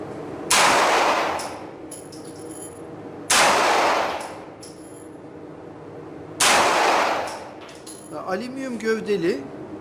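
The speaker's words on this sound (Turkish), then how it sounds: "Aynı hedefe bir beş tane mermi daha atacağım." Three loud, widely spaced shots from a Girsan MC 27E pistol, each a sharp crack with a ringing tail. Someone speaks just after the last shot.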